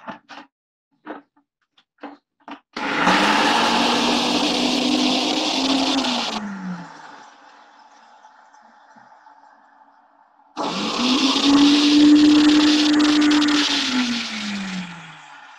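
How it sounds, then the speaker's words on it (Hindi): An electric kitchen grinder whirs through a paste with vinegar in two loud bursts of a few seconds each, each ramping up and then winding down, with a quieter hum and light clicks between and before them. "अभी मैं हाफ डाल रही हूँ और इसको ग्राइंड करूंगी"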